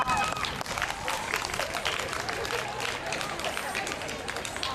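An audience at an arts week poetry slam breaks into applause, a dense, steady wash of clapping that holds at an even level for the whole stretch.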